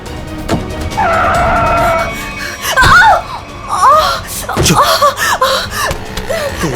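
A car skids with squealing tyres on a road near a border toll plaza in a CID TV episode, screeching in repeated bursts over rumbling noise, loud and close, with voices mixed in.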